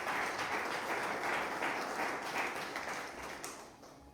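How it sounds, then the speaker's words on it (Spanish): A church congregation claps together as an offering of praise to the Lord, a dense, sustained round of applause from many hands that slowly fades toward the end. "Pues vamos a ofrenda de palmas al Señor con todo el corazón."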